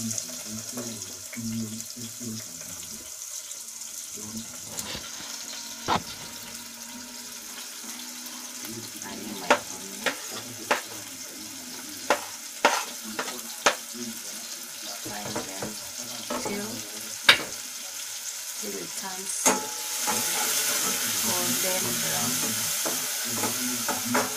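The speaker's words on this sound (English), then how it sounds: "So let's go and see the process of frying it." Onions fry and sizzle in a pan during preparation of African traditional vegetables, with a steady hiss, scattered clicks and scrapes of stirring, and water running near the end.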